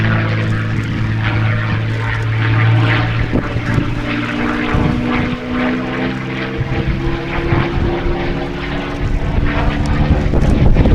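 A Supermarine Spitfire, the silver-finished example, flying at the Shuttleworth airshow in 2023, its piston engine a loud, sustained droning roar that swells and wavers as it passes, with no talking over it.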